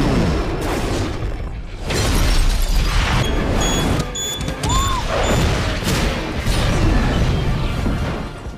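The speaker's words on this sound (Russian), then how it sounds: "активировав самоуничтожение своего костюма, был взорван" A film explosion as Ivan Vanko's armored suit self-destructs: loud, sustained blasts and crashing rumble with debris and mechanical clatter, surging in waves over several seconds.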